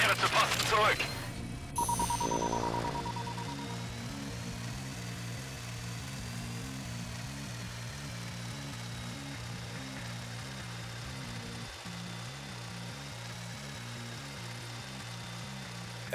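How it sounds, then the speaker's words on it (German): A drone flying in the video game Sniper Ghost Warrior 3, a steady, low droning motor hum that holds for many seconds after a brief burst of louder noise, with someone talking over it at times. "Ich flieg nochmal mit der Drohne."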